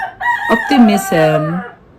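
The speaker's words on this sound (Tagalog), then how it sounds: "Alam ko maraming mga manok. Nag-iingay." A rooster crows loudly and close by near a bedroom among a flock of chickens. The single drawn-out cock-a-doodle-doo rises and then trails off, with no voices.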